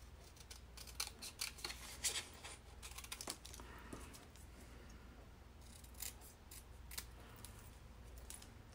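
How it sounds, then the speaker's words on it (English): Scissors snip repeatedly through a paper sentiment, cutting it into strips, with quick crisp close-up cuts and light paper rustling over a faint steady background hiss. "I just cut it into strips"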